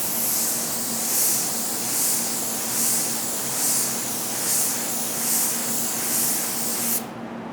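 Mini spray gun misting a light second coat of paint, a steady airy hiss that pulses gently with each pass, loud and close, then cutting off sharply near the end.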